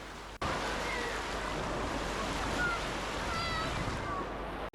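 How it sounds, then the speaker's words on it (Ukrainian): A wave pool at a thermal water park surges with continuous broadband water roar, steady and fairly loud, with distant faint voices and brief squeaks over it. "хвилі в басейні включалися щогодини"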